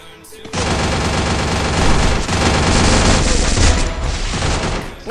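Rapid automatic gunfire in a shooter video game rattles in dense, loud bursts almost without pause, with a heavier boom mixed in near the end.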